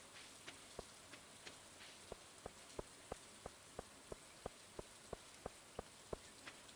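Steady rain in the Stardew Valley Expanded video game forms a soft, faint hiss, with evenly spaced light tapping drops landing at a regular rhythm on top.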